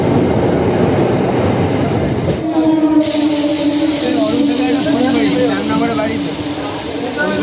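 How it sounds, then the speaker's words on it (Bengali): Sealdah–Naihati MEMU local train running: a loud, steady rumble of wheels on rail with rising squeals and clatter, heard from inside the coach, with a voice talking over it. "পরবর্তী স্টেশন থেকে ছুটছে আমাদের এই ট্রেন"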